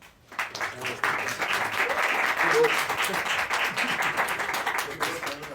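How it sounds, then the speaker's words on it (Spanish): An audience at a mathematics colloquium applauds a guest speaker being introduced, with dense, steady clapping that swells quickly and holds throughout, with faint voices mixed underneath. "pues un aplauso a Simón"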